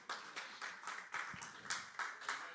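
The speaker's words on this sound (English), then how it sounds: "give the Lord a hand clap of praise." A church congregation gives a hand clap of praise, a steady run of about ten sharp, fairly even claps heard clearly with no talking over them.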